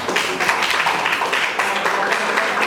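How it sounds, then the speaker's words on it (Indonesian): A classroom of students applauding a presenting group, steady dense clapping from many hands that fills the room, close and loud, with no pauses. "Oke, beri tepuk tangan untuk kelompok 1."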